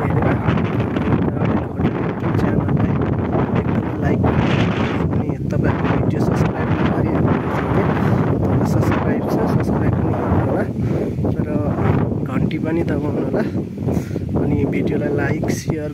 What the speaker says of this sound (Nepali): हावा पनि सरर चलिरहेको छ